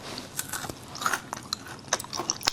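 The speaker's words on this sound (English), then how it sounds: "There's a crunch." Browned, crispy fries dipped in blue cheese are bitten and chewed, giving a string of sharp, close crunches scattered across a couple of seconds with no talking.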